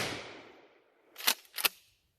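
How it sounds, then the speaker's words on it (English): Two sharp, loud blasts from a 12-gauge shotgun firing homemade silicone slugs into a cardboard box, spaced closely together after a fading noisy wash, with no talk. "we're going to shoot the cardboard box underneath."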